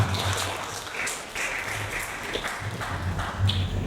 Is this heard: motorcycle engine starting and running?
no